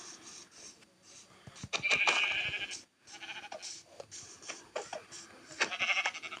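Several short Minecraft sheep bleats ring out in quick succession, fairly close and clear, with clicky pickup sounds scattered between them.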